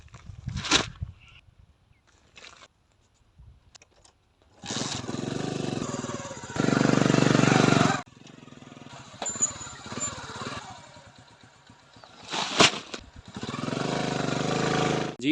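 A tractor engine runs intermittently in a wheat field being prepared for sowing, with short and longer bursts of rough engine noise separated by quiet gaps.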